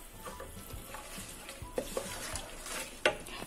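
Whole spices, two bay leaves and cinnamon sticks frying in oil with a spoonful of ghee for chicken korma, giving a soft steady sizzle with a few sharp spattering pops near the end.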